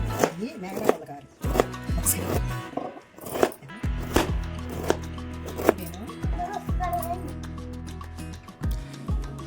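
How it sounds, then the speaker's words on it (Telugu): Pumpkin being cut into thin small pieces on a board: sharp knife chops land irregularly, several loud close thuds spaced a second or so apart, while a voice talks steadily in between. "ఇలాగా పెద్ద ముక్కల్ని సన్నంగా తురుముకుంటూ చిన్న చిన్న ముక్కల్లా చేసుకోవాలి"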